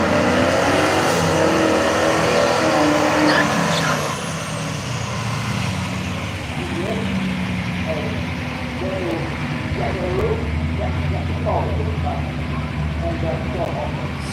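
A red Toyota Supra from Nugget Garage at a street machine drag challenge, engine roar loud at first then settling into a steady rumble with crowd and announcer talk over the top.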